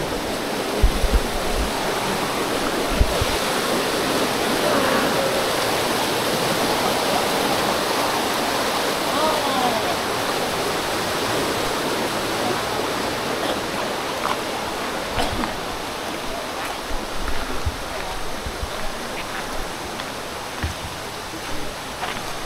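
A waterfall near a bridge in Baler roars as a steady, dense wash of rushing water, loud and continuous, with a few faint knocks early on.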